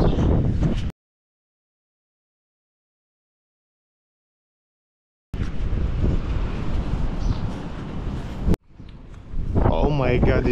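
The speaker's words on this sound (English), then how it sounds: "I hate the wind." Wind buffeting a microphone outdoors, a loud, steady broadband roar in bursts with a long silent gap between them and a voice speaking near the end.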